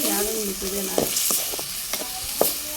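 Chicken curry ingredients fry on a wood-fired stove, with coriander and mint stirred in. A steady close sizzle runs throughout, broken by several sharp scraping stirs, and a brief voice comes in at the start.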